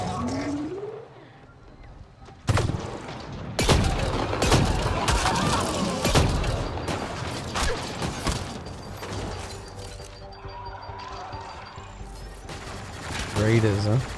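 Bursts of rapid gunfire crackle through Mass Effect Andromeda game audio, loud sharp volleys mixed with mechanical noise and other effects.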